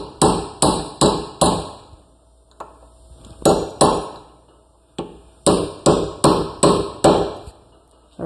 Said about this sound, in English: don't forget to hammer down the little lock here so it doesn't back out